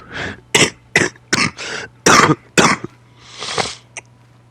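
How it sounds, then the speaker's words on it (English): A series of dry coughs, about eight in quick bursts, close and fairly loud, ending with a softer breathy one. "I do have a little bit of a cough"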